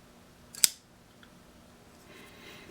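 One quiet, crisp click of a custom Tighe Rade folding knife blade snapping open on ball bearings, dampened, brief and close, followed by near silence with a faint rustle.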